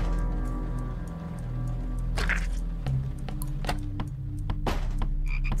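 Frog croaking in a haunted-house video game kitchen, repeated low croaks over a steady droning backdrop with scattered sharp clicks and thumps.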